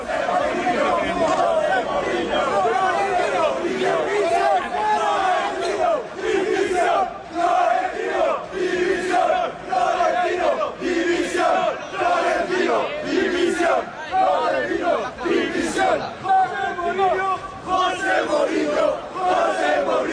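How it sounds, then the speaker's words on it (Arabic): Real Madrid fans outside the Santiago Bernabéu stadium after a match chant Mourinho's name in unison, a loud, rhythmic, pulsing crowd roar that repeats steadily over the whole stretch. "جمهور ريال مدريد وهو بيهتف باسم مورينيو بعد المباراه من خارج اسوار ملعب سانتياغو برنابيو"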